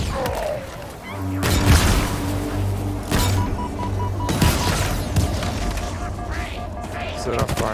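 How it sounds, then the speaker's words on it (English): Fireworks go off in the video game Halo Infinite, a string of heavy booming blasts and crackling bursts that pile up over several seconds amid game sounds. "I set off a lot of fireworks."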